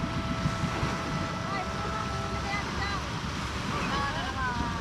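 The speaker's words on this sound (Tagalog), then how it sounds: "Ang galaw ng bangka niya." A small fishing boat out after tanigue rocks on open sea, with constant engine drone, wind and wave wash close by, while people talk over it.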